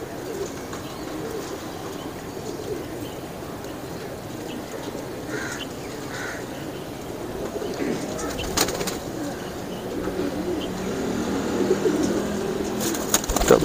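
Fancy pigeons of the Teddy and Ali Wala breeds coo softly in a loft, low murmuring calls under a steady ambient hiss, with occasional faint chirps and sharp rustles or wing sounds near the end.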